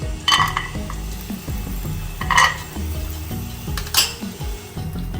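Peanuts fry in half a teaspoon of coconut oil in a pan, with a spoon scraping and clinking against the metal in irregular bursts over a low sizzle, close and fairly loud.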